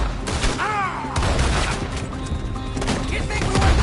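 Dense bursts of gunfire ring out in a Red Dead Redemption shootout, shots overlapping with booms and crashes in a loud, continuous barrage, with voices faintly under the din.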